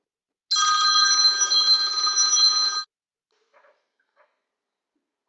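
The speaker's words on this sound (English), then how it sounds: "I go to my web client and I'll make a phone call" Telephone ringing on an outgoing call placed from a web client on a Yeastar phone system: a loud, steady electronic ring tone lasting about two seconds, followed by silence and a couple of faint clicks.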